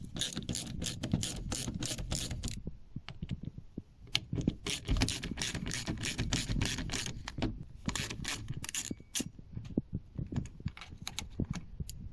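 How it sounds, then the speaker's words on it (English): A ratchet undoes the three T25 bolts holding a Smart car wing mirror, giving close rapid clicking in short bursts with brief pauses and no speech. "undo the 3 bolts holding in the mirror"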